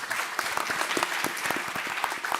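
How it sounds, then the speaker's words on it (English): Audience at a foresight panel claps together in a short, steady round of applause. Sharp individual claps stand out over the crowd, and the sound is fairly quiet. "So I would like us all to just give each other a round of applause."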